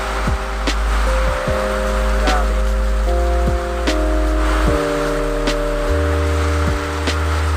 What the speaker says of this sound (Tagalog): Ang lakas ng ulan. Tsaka hangin.